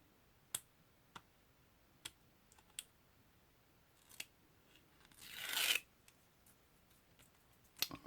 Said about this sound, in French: Donc après, c'est tout simple, vous enlevez le double face.